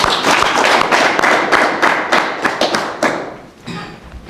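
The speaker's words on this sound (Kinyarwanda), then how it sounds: "duhe Imana amashyi" Congregation applauds during a church wedding ceremony, a loud burst of many hands clapping in quick irregular bursts that thins out and fades toward the end.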